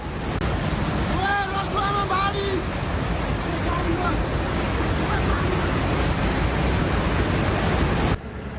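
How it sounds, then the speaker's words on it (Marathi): Flash-flood water roars down a valley in Nepal, a loud, steady broadband rush that keeps on without a break, with the level dipping slightly near the end; a voice speaks briefly over it near the start. "दरीतून वाहणाऱ्या पाण्याच्या लाटा जवळपास 50 मीटरपेक्षा उंच ओसळत होत्या।"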